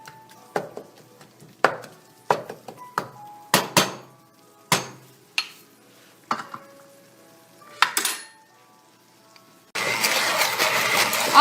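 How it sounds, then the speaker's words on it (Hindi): An electric mixing machine blending yogurt masala for chicken kofta gravy starts with a burst of loud, steady whirring near the end. Before that comes a run of sharp clicks and knocks as it is handled and set up. "अब इस मशीन से इसको मिक्स कर लेना है ताकि अच्छी इसकी ग्रेवी रेडी हो"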